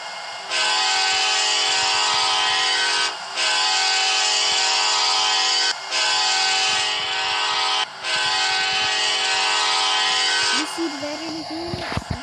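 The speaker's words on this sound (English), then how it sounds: "Express train's coming" A veterans' express train's horn blares in four long, loud blasts with brief gaps between them near a station, then fades into rumbling noise and a voice.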